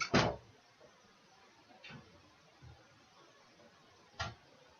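A door shuts with a sharp thump near the start, followed by a few fainter knocks and clicks in a quiet room.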